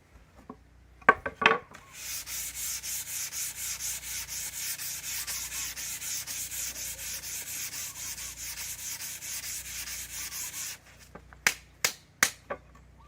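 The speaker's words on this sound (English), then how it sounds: "sanding and finishing the sides of our kitchen sink" Sandpaper rubs steadily over the wooden sides of a kitchen sink in a tiny house build. Close, even back-and-forth strokes continue for about ten seconds, followed by a few sharp taps, with no talking.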